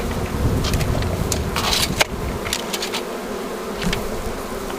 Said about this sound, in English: just lots of bees, healthy, strong, beautiful.